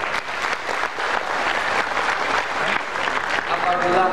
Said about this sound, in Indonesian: Oleh karena itu kita beri tepuk tangan kepada.